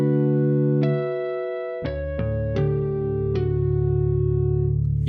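Sustained electric guitar tones ringing with bright, thick harmonics, several new notes struck and swelling over a low droning fundamental, with reverb tail.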